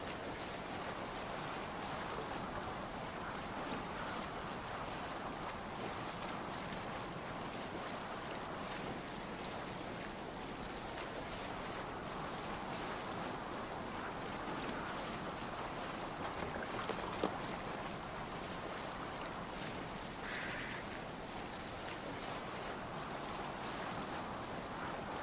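A sailing boat moves over the waves in Assassin's Creed Valhalla, with a steady wash of sea and wind noise that stays even and moderately quiet throughout, without speech.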